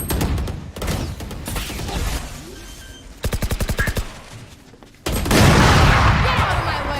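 Grenade blasts and rapid gunfire in a competitive shooter match: a brief burst of evenly spaced shots, then a loud sustained explosion-like roar near the end, with game noise throughout.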